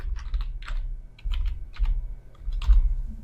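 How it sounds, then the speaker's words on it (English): Password being typed on a computer keyboard at a desk during database login, a quick run of crisp, close key clicks in short bursts with brief pauses, no talking. "So just type that password in."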